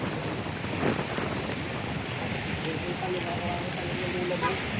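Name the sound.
strong sea waves at San Nicholas, Batangas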